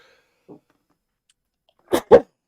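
A person sneezes twice in quick succession, close and sharp, with a faint breath just before in an otherwise silent podcast room.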